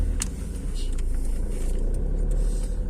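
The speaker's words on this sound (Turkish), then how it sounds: "Bak nasıl gidiyor araba baba" Steady low engine hum and road rumble from inside a moving car, constant and moderately loud with no talking.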